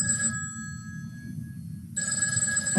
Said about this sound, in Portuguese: Telefone antigo.